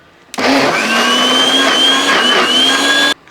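A mixer grinder blends rice flour batter for vattayappam, a loud steady high-pitched motor whine that starts abruptly, holds for about three seconds with slight pitch wobble, then cuts off sharply.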